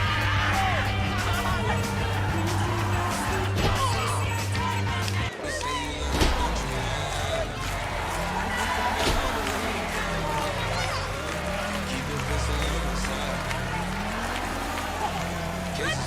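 A huge arena crowd at a wrestling event in Toronto's Scotiabank Arena roars with a steady, dense wash of cheering and noise, while commentators talk over it throughout.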